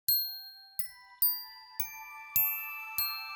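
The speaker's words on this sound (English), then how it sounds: "I mean, for me, the chimes" Sampled ambient percussion chimes from a library, six bright metallic strikes spaced roughly half a second apart, each ringing out with sustained overtones and decaying before the next, heard alone without talk.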